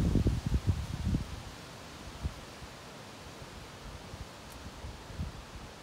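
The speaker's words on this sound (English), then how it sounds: "The wind kind of tapers off a bit for the moment." Wind gusts through autumn leaves on an overcast day after light rain. A soft, gusty rustle stirs near the start, then dies down to a faint, quiet breeze with occasional small rustles.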